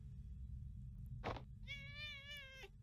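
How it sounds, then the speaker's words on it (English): A sad cat in the video game Imposter Factory gives a single drawn-out, wavering meow after a brief thump, clear and alone over a low steady background hum. "Aw, sad cat."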